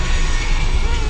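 A Jet2 Boeing 737 airplane landing at Tenerife Sur airport gives off a loud, steady jet engine roar, close and dominant, with people talking in the clip.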